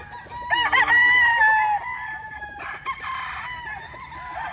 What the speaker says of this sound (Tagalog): mahimas natin yung mga alaga natin mga manok